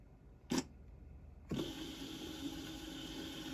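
An ImageWriter II dot-matrix printer performing a line feed: a brief mechanical burst followed by a steady, continuous motor whir, close and moderately loud with no talking.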